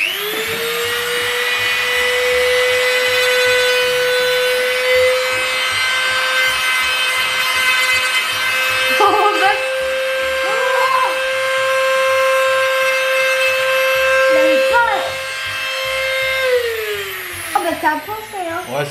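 A power sander runs steadily with a loud, sustained whine, briefly catching and scraping against the surface a few times before winding down; someone speaks over it.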